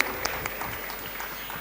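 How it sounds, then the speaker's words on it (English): Guests at a company anniversary gala in India clap in a continuous, moderately dense wash of applause with a few sharper individual claps standing out. "we deserve a bigger round of applause, please"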